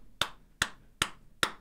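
One person claps alone in a quiet room, four sharp, evenly spaced claps at a slow, steady beat, meant to start an audience clapping along.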